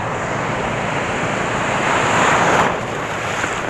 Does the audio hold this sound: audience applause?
no